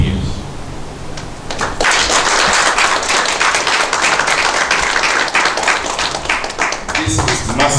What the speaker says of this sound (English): I expected a bigger round of applause